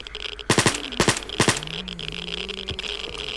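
Gunfire from zombies in STALKER Anomaly, three short loud bursts of automatic shots about half a second apart, followed by a lower sustained hum, with no talking.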